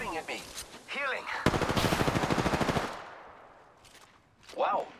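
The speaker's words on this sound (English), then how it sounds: "The enemies are shooting at me." Rapid automatic gunfire in the battle-royale shooter Apex Legends: a dense burst of evenly spaced shots lasting about a second and a half, loud and close, with game voice lines and effects before and after.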